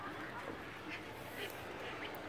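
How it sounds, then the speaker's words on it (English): A single duck gives a few faint, distant quacks amid steady background noise. "And then you just get the random duck over there making a random quacking noise."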